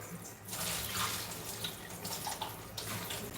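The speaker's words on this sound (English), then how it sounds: "Let me rinse my knife off while I'm at it." Kitchen tap water runs steadily into a sink as a knife is rinsed, a close, continuous splashing hiss lasting the whole stretch with small clinks and shifts in the flow.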